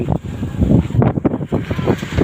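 Strong gusting wind buffeting the microphone at a Saturday-morning outdoor market in Mueang Khong, a loud rumbling roar in uneven bursts, with faint voices beneath.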